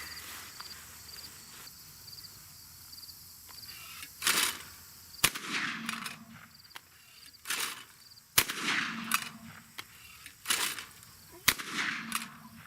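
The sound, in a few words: gunshots from Browning A5 Sweet Sixteen 16 gauge shotgun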